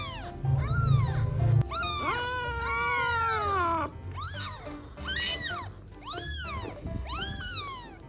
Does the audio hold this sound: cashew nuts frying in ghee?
no